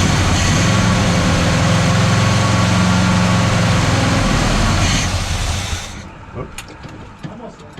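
A Buick GS engine cranks and runs loud and close, a rough rumbling idle that lasts for several seconds. It then cuts off, leaving a quieter stretch of light knocks and handling noises.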